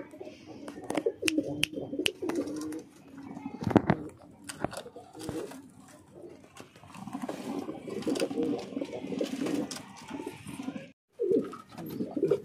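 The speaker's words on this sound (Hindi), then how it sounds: "टोटल 5 कबूतर है ये" Five pigeons, Neeli Setinet, Lal Ban and High Flyer breeds, coo repeatedly in low, throaty bursts nearby, with some wing flutters and scuffing between calls.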